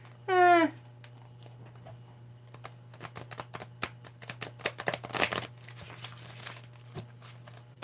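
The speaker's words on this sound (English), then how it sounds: "I want to show you that they shuffle real well, because handmade decks don't always shuffle well" A handmade oracle card deck, bought secondhand, is shuffled by hand, giving a run of crisp clicking and riffling card noises that build into a dense flurry near the end, with a brief vocal sound at the start.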